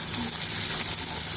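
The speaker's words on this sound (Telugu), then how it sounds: "కొంచెం సాల్ట్, పసుపు 1 స్పూను, వేసుకొని కొంచెం వేగనిస్తాను." Vegetables frying in a pan with salt and turmeric, a steady, close hiss and sizzle running continuously without pause.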